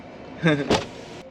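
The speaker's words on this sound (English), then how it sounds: "I just rolled the window down" A car's power window rolling down inside a self-driving robot vehicle on city streets, a brief motor whir lasting under half a second, close and moderately loud, with a voice nearby.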